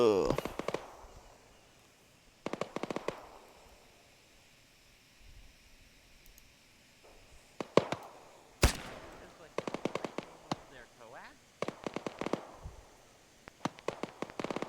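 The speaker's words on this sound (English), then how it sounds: "They're shooting at something." In a military shooter game set during a beach landing, distant gunfire comes as scattered bursts of sharp, crackling shots, fairly faint and spread out with quiet gaps between them.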